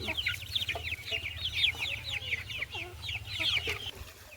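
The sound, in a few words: native hens clucking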